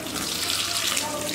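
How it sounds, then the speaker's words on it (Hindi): Water from a tap pouring steadily into a washing machine drum holding a heavy double-bed quilt, a short continuous splashing rush at close range. "फिर सारा पानी डाल देंगे"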